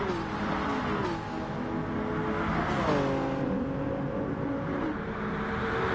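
A Toyota Gr3 race car engine droning steadily at Monza in a racing video game, its pitch dipping and climbing through gear changes as the car slows and pulls away, loud and continuous with no talk.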